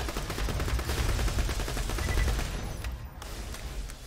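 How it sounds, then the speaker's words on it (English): Rapid bursts of gunfire from the video game Borderlands 2, Tiny Tina's Assault on Dragon Keep, a dense crackling fusillade that runs steadily and loud throughout, easing slightly near the end. "So now we got to shoot him in the head."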